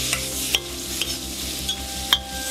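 Meat searing in a pan for a sauté, a steady sizzle with periodic stirring scrapes and clinks of a utensil, close and alone with no talk.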